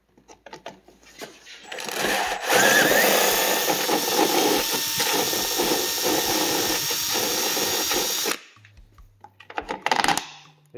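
A power drill whines in a sustained burst of about six seconds, slightly enlarging a hole in the dashboard of a Kawasaki Versys 650 motorcycle, preceded and followed by clicks and handling noises.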